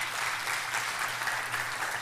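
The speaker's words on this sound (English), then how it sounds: "Let's just give her another round of applause" Steady applause from a crowd, sustained and even throughout, with no voices over it.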